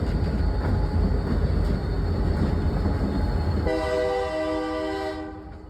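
A GP39 diesel locomotive rumbles loudly past, then its horn blasts a long, sustained chord near the end, rising over the engine noise before fading.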